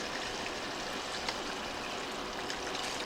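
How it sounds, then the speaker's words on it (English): Steady pouring of four cups of beef broth into a pot for a one-pot ground beef and noodle dish, a continuous close liquid rush with no talking. "I'm going to add 4 cups of beef broth."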